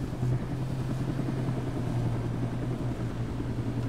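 A helicopter in the video game H1Z1 drones steadily with a low, continuous rotor hum at moderate distance, unbroken throughout and with no talk over it.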